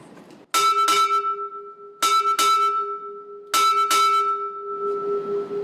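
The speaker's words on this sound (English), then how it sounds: "Sound 6 bells." Six crisp ship's bell strikes at a naval naming ceremony ring out in three evenly spaced pairs, each pair quick, the metallic tone lingering between them.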